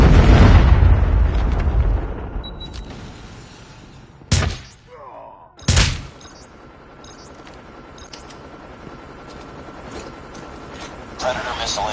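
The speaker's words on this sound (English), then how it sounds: "Be advised, hostile Predator missile inbound" Predator missile strikes in Call of Duty Mobile land as a rumbling blast that fades, then two sharp loud explosions a second apart, with game chatter and gunfire continuing after.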